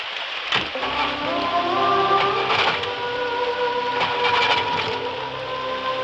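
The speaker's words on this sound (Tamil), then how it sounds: "மழை அதிகமா இருக்கு" Heavy rain falling in a Tamil film scene: a steady wash of downpour with sharp spatters, layered with sustained tonal sounds.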